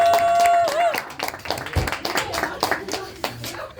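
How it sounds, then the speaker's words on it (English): An audience claps for a comedian in a club, a short burst of hand claps that thins out into scattered claps, after a held musical note and with talking over it. "Keep it going, clap it up for Netta."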